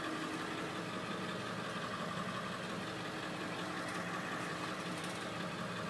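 A 1998 Ford E-Series Super-Duty school bus with a 7.3 diesel engine idles steadily, a constant rough rumble with a low clatter, close and unchanging with no talking.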